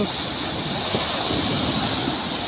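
Strong typhoon Opong winds roar against the microphone while sea waves surge along the shore, a loud, unbroken wash of noise with no pauses.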